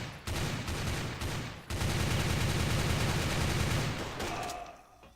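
Rapid automatic gunfire from the video game CrossFire, loud and close, runs in sustained bursts with a couple of brief gaps before tapering off at the end.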